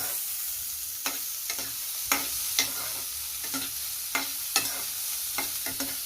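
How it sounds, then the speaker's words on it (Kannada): Onions frying in a pan for a greens stir-fry, a steady bright sizzle with periodic scraping stirs of a spatula at a brisk, uneven rhythm, close and moderately loud with no talking. "ಈರುಳ್ಳಿ ಹಾಕ್ಕೊಂಡು ಸ್ವಲ್ಪ ಫ್ರೈ ಮಾಡಬೇಕು ನೋಡಿ"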